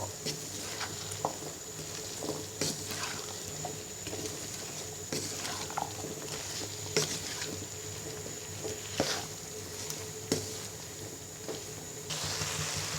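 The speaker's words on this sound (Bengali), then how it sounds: "সব মশলার সাথে ফুলকপি এবং আলুটাকে ভালো করে মিশিয়ে নিব" A spoon stirs spices through cauliflower and potato pieces in a cooking pan for an egg and potato cauliflower dish, giving irregular scraping clicks and soft patters over a low steady hum, close and fairly quiet, with no talk.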